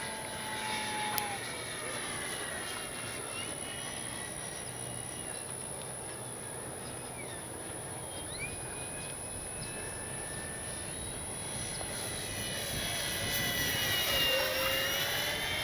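An FMS P-51 Miss America radio-controlled plane flies overhead in crosswind conditions, its steady engine whine holding fairly faint and distant, with pitch sweeps as it passes and a slight swell toward the end.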